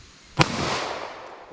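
A single sharp, loud .45 ACP pistol shot cracks out close by, then a short reverberating tail fades away.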